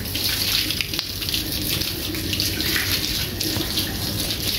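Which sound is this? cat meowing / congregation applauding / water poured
water poured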